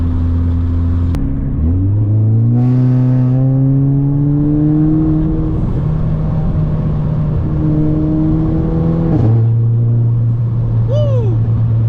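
Volkswagen Scirocco engine heard from inside the car, revving hard through the gears with rising pitch sweeps, a brief drop at a gear change, then climbing again, loud and continuous with road rumble underneath.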